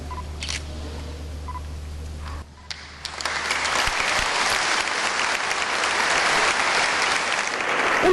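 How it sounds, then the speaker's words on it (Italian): Long, thunderous applause from a large crowd fills Bressanone cathedral at a bishop's ordination, starting after a brief hum and a few faint clicks, then holding as a dense, steady roar of clapping. "Un applauso lungo e scrosciante per festeggiare Monsignor Michele Tomasi, ordinato nuovo vescovo di Treviso nel Duomo di Bressanone"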